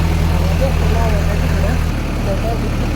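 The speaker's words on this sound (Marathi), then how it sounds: "तर आपण ट्रॅक्टर लावला इथं," A tractor engine runs steadily in a maize field, a loud low continuous drone with a rhythmic hum that shifts slightly in pitch partway through, with faint voices or noise above.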